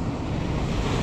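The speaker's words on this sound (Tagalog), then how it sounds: "Malakas yung alon." Rough sea waves surge and roar near a fishing spot, with a dense, continuous wash of water and wind buffeting the microphone, loud and close.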